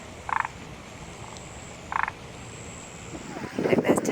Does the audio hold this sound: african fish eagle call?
no